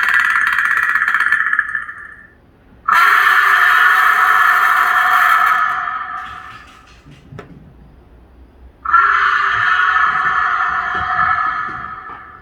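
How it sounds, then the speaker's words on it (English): A loud, piercing shrieking Predator creature scream, played back from a convention costume build, sustained for several seconds, cutting off, then returning twice with harsh, grating tone. "let's try the scream now"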